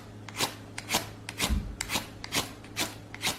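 A Morakniv Eldris stainless-steel knife with a 90-degree spine bevel scraped against a piece of flint, giving a regular series of sharp rasping strikes, about seven, close and fairly loud with no talking.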